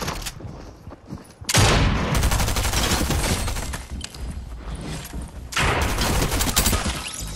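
Rapid gunfire from shotguns and SMGs in the video game Fortnite, dense bursts of shots that run almost continuously, with a loud burst starting partway through and another near the end.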